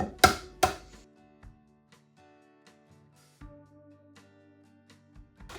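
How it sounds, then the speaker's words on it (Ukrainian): Two sharp knife chops on a board cutting green onions, then a few faint taps and light kitchen clatter in a quiet room. "Пучок зеленої цибулі потрібно порізати."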